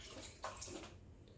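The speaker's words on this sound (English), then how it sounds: "I'm going to dunk this in the sink." Brief watery slosh of an item dunked into a sink of water at a home espresso machine setup, a soft splash followed by faint settling, close and quiet with no talk.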